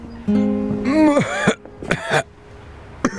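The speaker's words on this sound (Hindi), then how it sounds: "जब भी मैं पूछती हूँ तुम खांसना शुरू कर देते हो।" A man coughs and clears his throat in a few harsh, close bursts, with short pauses between them, in an indoor drama scene.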